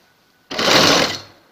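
A sewing machine stitches piping along a garment neckline in one short, close burst of steady whirring that starts abruptly and fades after about a second.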